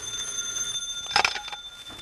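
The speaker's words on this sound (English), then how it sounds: "He was almost asleep when the phone rang." A telephone bell rings once in a short, bright burst in an old-time radio drama, preceded by a quiet steady hum.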